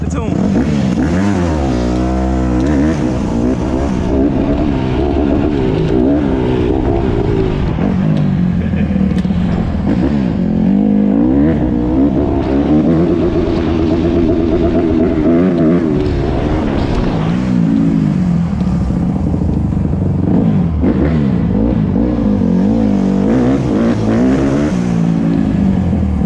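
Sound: 2008 Honda CRF150R dirt bike engine idling and revving

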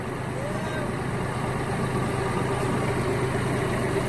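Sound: tractor engine idling

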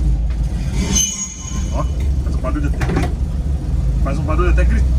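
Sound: Volkswagen Kombi rear scraping loudly on a ramp

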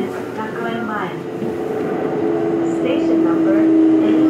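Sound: Kintetsu 1220 series express train running sound

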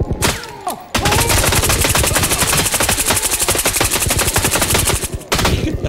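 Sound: gunfire in a video game

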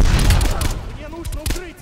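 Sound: grenade explosion and gunfire in video game Call of Duty: Black Ops Cold War

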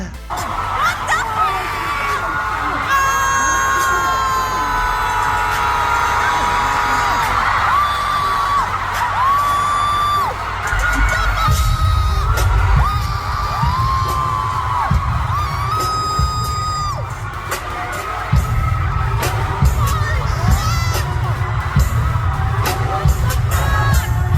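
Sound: fans screaming at a concert as a performer dances

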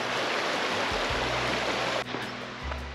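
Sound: river flowing beside a campsite in the French Alps

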